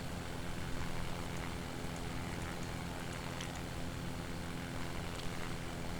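An Eclipse 550NG jet in X-Plane 11 with its engine throttled back during an approach, a steady broadband engine drone and hum holding at an even level throughout, with no speech.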